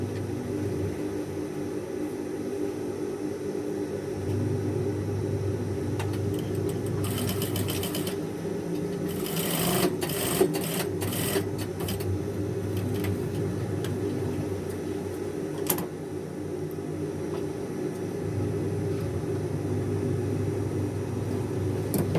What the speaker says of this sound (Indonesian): Kemudian untuk yang kecil ini kita jahit di sebelah luar dari belahan lengan kemeja